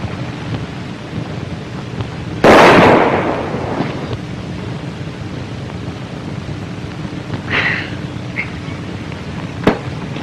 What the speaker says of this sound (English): That's pretty good shooting, my friend.